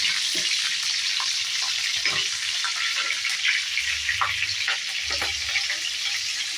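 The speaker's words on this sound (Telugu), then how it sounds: "పచ్చిమిర్చి వేసుకున్నాం 4. కొద్ది కలర్ చేసేదాకా ఫ్రై చేసుకున్నాను." Green chillies fry in hot oil for a dry fish curry, giving a steady close sizzle with small crackles and occasional stirring knocks. The sizzle runs throughout, with no talking.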